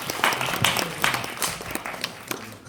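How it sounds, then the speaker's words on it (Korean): An audience at a film screening's post-show talk at Cinecube Gwanghwamun claps in a loose, scattered round of applause with irregular hand claps, moderately near and not very loud. "네, 박수 한번 부탁드립니다."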